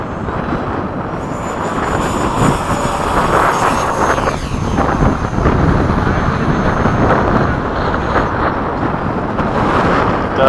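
A Freewing 90mm F-22 RC jet with an electric ducted fan roars past in a loud, steady whoosh that swells and shifts in pitch, with wind buffeting the microphone at an outdoor flying field.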